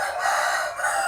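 A rooster crows loudly and close by, one sustained, strained call filling the short moment with no talk over it.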